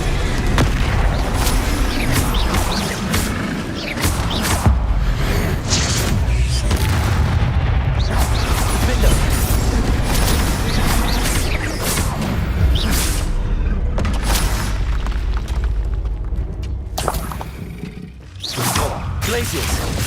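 Bombarda spell blasts in Hogwarts Legacy, heavy booming explosions and rumbling impacts repeating over a dense, loud stretch of combat noise.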